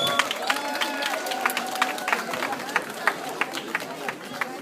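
A crowd applauds a teacher at a September 1 school ceremony, with sustained rhythmic clapping and a few sharper individual claps, while voices murmur and chatter in the background.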